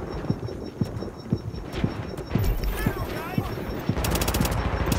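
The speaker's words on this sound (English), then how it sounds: "Why are you shooting me when I'm down?" Gunfire in the video game The Division: regular bursts of sharp shots at a steady rhythm, moderately loud, with a voice talking over it and a busier burst of clatter near the end.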